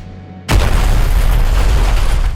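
A loud explosion from the finale of the Civil War film bursts in suddenly after near-silence, then holds as a dense, sustained roar with heavy low-end rumble.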